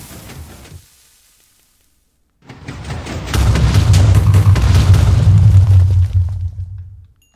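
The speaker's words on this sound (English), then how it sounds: "If you flick it, it should all move forward and explode this wall a bit." A Minecraft Bedrock Edition explosion blasts through a wall, beginning after a near-silent gap as a loud, sustained rumbling boom that holds for several seconds before tapering off, with no voices.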